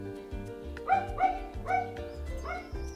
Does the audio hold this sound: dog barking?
yes